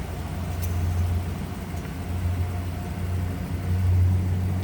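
An old pickup truck loaded with belongings and hitched to a heavy trailer idles with the transmission in park, a steady low engine rumble that stays close and even throughout.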